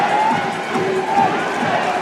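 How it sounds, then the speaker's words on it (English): A crowd in a Pampanga basketball arena roars in a loud, continuous swell of cheering and shouting during a fourth-quarter game, with a commentator's voice faintly over it. "And the crowd has come alive here in Pampanga."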